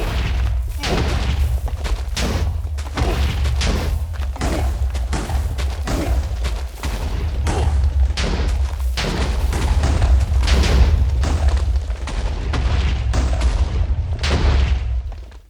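Repeated booming blasts of TNT detonating underground while digging through caves in Minecraft Beta 1.7, a steady run of loud, close thuds and rumbles that stack over one another across the whole stretch with no pause.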